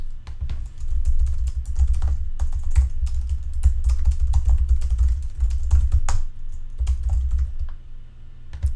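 Fast, steady typing on a computer keyboard, with close, dense key clicks over a low hum, as flight notes are entered in a medical transport departures and landings log.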